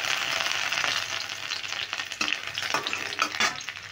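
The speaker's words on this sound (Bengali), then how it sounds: "দেখো পেঁয়াজ রসুন একটু লালচে করে ভেজে নিচ্ছি" Garlic and onion fry in hot oil for a mashed pointed gourd dish, a steady close sizzle with a few scraping stirs cutting through, and no voices.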